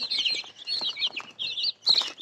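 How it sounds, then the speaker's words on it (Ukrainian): Chicks chirp busily in high, rapid peeps, several overlapping calls close by with short pauses between bursts. "Ось курчатка мої вже підросли, слава Богу"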